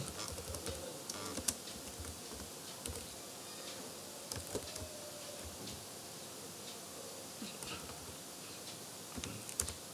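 Someone types a print command on a computer keyboard, a quick run of light, close key clicks with brief pauses and no talking.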